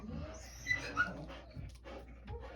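A female dog whimpers softly indoors, faint high whines and breathy sounds with a couple of slightly stronger cries.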